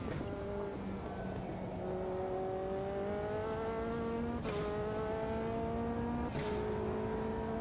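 Race car in Automobilista 2 drifting and sliding through a corner in VR, engine tone steadily rising and falling in pitch, with sharp gear shifts cutting in twice and a faint tire scrub underneath.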